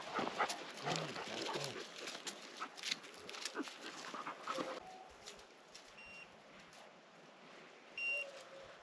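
Hunting dogs on a bear hunt whimpering, yipping and panting close by in a fairly quiet outdoor scene, with a few brief higher whines and someone speaking softly at times.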